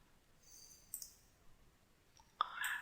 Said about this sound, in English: we're going to go to our keyboard and we're going to click Control